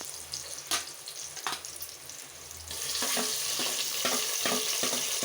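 Onions and tomatoes sauté in a pan, a continuous frying hiss that grows louder midway, broken by repeated scraping stirs of a spoon; no one speaks.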